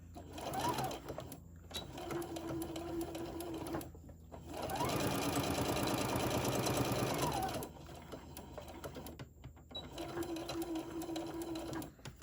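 A domestic sewing machine stitches the seams of drawstring Santa bags, running in bursts with a steady mechanical whir, loudest in a long stretch near the middle, with short pauses between runs.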